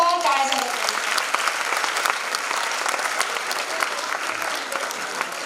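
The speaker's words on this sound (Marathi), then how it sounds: "परत एकदा जोरदार टाळ्या झाल्या पाहिजे" An audience gives loud, dense, continuous clapping for young children performing at a community unity celebration. The applause holds steady throughout.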